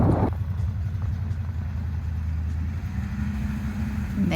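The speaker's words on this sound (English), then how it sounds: "There she goes, running for the first time in decades." A 1971 Ford truck's engine runs for the first time in decades, idling steadily with a low, even rumble close by, after a brief louder start at the beginning.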